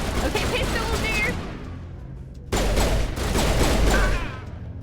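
Heavy gunfire in the Mass Effect game, with dense booming shotgun blasts and combat noise filling the scene, the blasts dropping off briefly and then roaring back loud and continuous.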